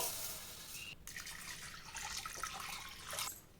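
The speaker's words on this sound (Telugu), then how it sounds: "ఈ పప్పులన్నింటినీ కుక్కర్ లో వేసి కడిగేసి" Water runs and splashes into a pressure cooker as a mix of lentils is rinsed, a continuous close gurgling stream with a brief pause near the start.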